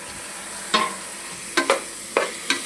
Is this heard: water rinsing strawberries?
no